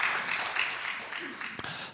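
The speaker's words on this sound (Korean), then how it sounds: "다 축복하는 마음으로 같이 한번 박수 한번 좀 쳐주시." Applause from a church congregation at a Friday worship service, a dense steady patter of many hands clapping together, moderately close and continuous throughout.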